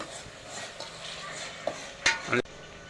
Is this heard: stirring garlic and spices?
yes